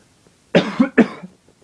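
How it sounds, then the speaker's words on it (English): Two quick, close coughs in a row, sharp and dry, in an otherwise quiet setting. "I'm getting a really bad cough"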